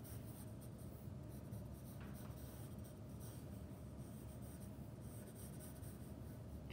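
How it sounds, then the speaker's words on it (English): A pencil sketches lightly on paper during an art composition lesson, producing a soft, continuous scratching and rubbing that is faint and close, with no talking. "as you see me drawing here, and before you get started drawing, remember to draw super lightly with your pencil"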